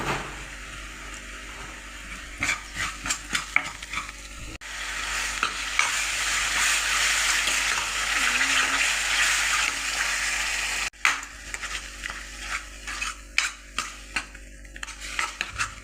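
A spatula stirs spicy pav bhaji in a pan after water has been added, giving rapid scraping taps over a wet sizzle and a long continuous bubbling stretch in the middle, close and clear with no talking.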